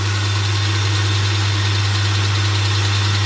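A 2002 Hyundai Santa Fe with a loss-of-power fault idles close by, a loud, steady hum with a constant low drone and no change in pace, heard alone without any talking.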